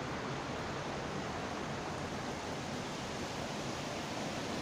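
A flowing creek near Recoaro on a cold day: steady, dense rushing water that holds constant throughout, close by and with no voices.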